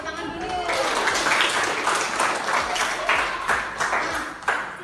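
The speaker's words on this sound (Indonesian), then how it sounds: "Tepuk tangan dulu." A group clapping hands during a teachers' coaching session, uneven bursts of claps with a few stronger accents over a couple of seconds, with voices audible around them.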